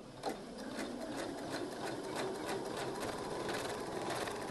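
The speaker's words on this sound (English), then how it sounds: "Then go to the sewing machine and simply sew 1/4 inch down one seam only." A sewing machine runs steadily, stitching a seam in bunting fabric with a fast, even mechanical whir and tapping needle rhythm, close by and continuous with no talking.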